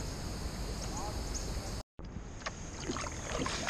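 A kayak being paddled out on open water in the dim early morning in Ohio, with soft splashes and drips from paddle strokes beneath steady wind noise and a brief dropout partway through.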